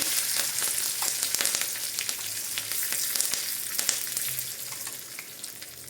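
Curry leaves fry in hot ghee for a temple-style ven pongal prasadam, giving a steady, close crackling sizzle with scattered sharp pops and spits throughout, and no voices.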